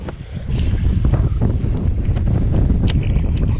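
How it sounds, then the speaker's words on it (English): Strong wind on a lake during a fishing trip over grass flats near a power plant, a steady loud rush buffeting the microphone throughout with faint water sounds underneath. "Some of the stronger wind I've fished in a long time."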